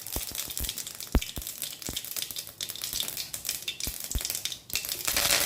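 Mustard seeds spluttering in hot oil in a vada frying pan while tempering herbal rasam, a dense crackle with scattered sharp pops throughout, fairly close and steady, with no talking.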